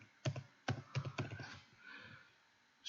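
Typing on a computer keyboard, with short bursts of close, quiet key clicks in quick clusters and then a pause.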